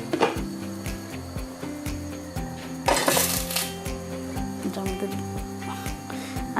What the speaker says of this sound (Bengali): এখন আমি এই যে তাওয়ার মধ্যে দিয়ে দেব, ধিমা করে।